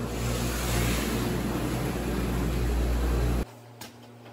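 A Bellevue dishwasher running its wash cycle, a steady loud mechanical hum and whir with tonal motor drone that cuts off abruptly near the end, leaving a faint click in near quiet.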